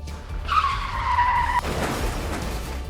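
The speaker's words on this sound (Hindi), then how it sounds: "जोरदार टक्कर और बाइक सवार 10 फीट दूर जाकर गिरा।" On a road caught by CCTV, a car's tyres screech in a sustained squeal before an abrupt cutoff where it strikes a motorbike rider, followed by rough, noisy street ambience.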